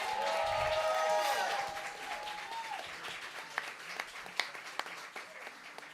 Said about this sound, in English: Make sure you give a loud applause for our first lady of the night